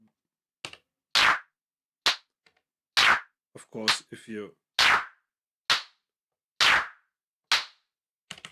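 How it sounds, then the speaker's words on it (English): Repeated synthetic hand claps from an Elektron Analog Rytm drum machine, each sharp hit trailing into a short reverb-like decay, played in an uneven sequence with one brief spoken phrase in between. "if you increase the volume at this point, you get a little like a reverb on the clap"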